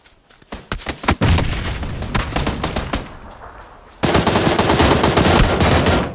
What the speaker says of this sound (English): I was blind firing.